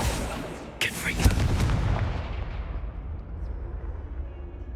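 Confringo blasting spell cast in the Hogwarts Legacy video game, heard as a sharp burst that swells into a rumbling, booming blast and fades into a lingering roar.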